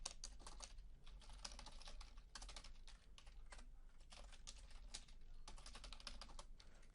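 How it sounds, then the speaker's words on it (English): Fast, steady keystrokes clatter on a computer keyboard in close, quiet bursts separated by brief pauses, the typing heard alone with no talk. "we're just gonna type in block content right here"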